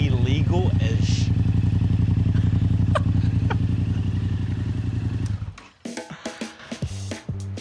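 A Yamaha Ténéré 700 motorcycle with a Yoshimura exhaust idles loud and close with a deep, steady pulsing rumble, then cuts off abruptly, leaving someone talking in the quiet afterward.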